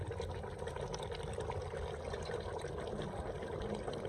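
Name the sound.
water poured into starling karahi while cooking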